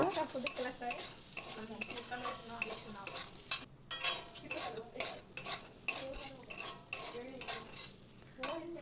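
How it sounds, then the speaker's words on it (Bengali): Spices are stirred into an amla pickle in a pan, a spoon scraping and clinking against the metal in uneven strokes over a faint sizzle, close and clear with short pauses. "এবার আমি মশলাটা দিয়ে দেবো আবারও খুব সুন্দর করে নেড়ে নেব"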